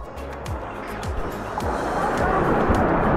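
Strong waves surge and wash around a boat while island hopping off Boracay, a loud, rising rush of surf and water noise with engine-like thumps underneath.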